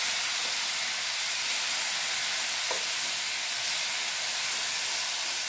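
Ground spices with chili powder, salt and a splash of water sautéing in a pan, giving a steady, close, broadband sizzling hiss throughout with no voices.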